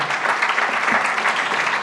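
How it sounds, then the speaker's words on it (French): Audience applause at a conference panel on energy renovation, steady dense clapping from a seated crowd, moderately loud throughout. "Je vous demande de les applaudir, bien sûr"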